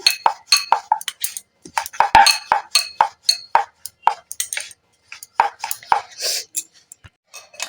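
Potato paratha dough dusted with flour being rolled out with a rolling pin on a board, giving a steady run of light knocks, taps and clicks close by, with no talking.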